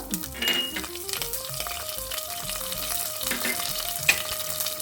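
Mustard seeds, urad and chana dal, chillies, curry leaves and asafoetida sauté in oil for brinjal mochai rice, a steady close sizzle with small pops and a single sharp clink of a utensil, while a faint melodic tone runs underneath.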